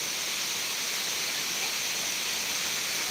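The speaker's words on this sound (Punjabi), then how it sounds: "ਦੇਖੋ ਲੀਕੇਜ ਦਾ ਪਾਣੀ ਜਾ ਰਿਹਾ" Leakage water pours through closed gates at the Satluj river headworks in Ropar, making a steady, broad rushing roar that holds constant throughout.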